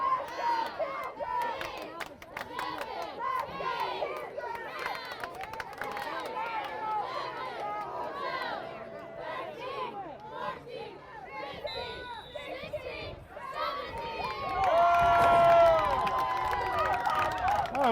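Football fans in the stands cheer for the Battling Bishops of Ohio Wesleyan during a game against Maryville, a steady crowd roar with scattered shouts and a louder swell near the end, mixed with announcer talk.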